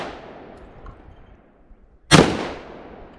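A single loud, sharp gunshot rings out at an outdoor shooting range and trails off in a long echo, following the fading tail of an earlier shot.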